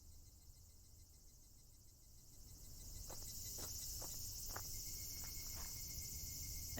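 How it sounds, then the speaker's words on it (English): Cicadas drone in a steady high buzz that swells slightly louder partway through, with a few faint short chirps poking out, all distant and continuous. "I kind of like the sound of cicadas."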